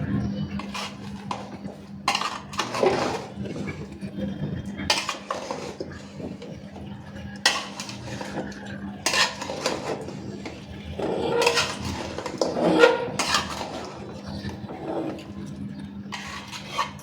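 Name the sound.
mixing food in a pot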